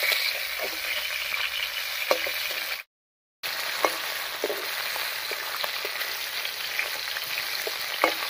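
Fish pieces frying in hot oil for a Bengali fish curry with raw banana, a steady close crackling sizzle with small pops, broken by one short silent gap.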